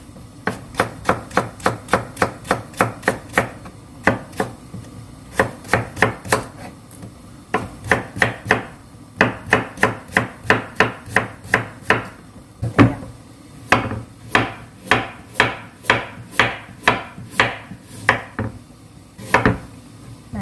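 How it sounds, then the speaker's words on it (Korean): A knife cuts vegetables into thin julienne strips on a board for mulhoe broth, knocking out quick, even runs of sharp taps with brief pauses between bursts, close and clear. "얇은 채 썰어서 넣어주시면 돼요"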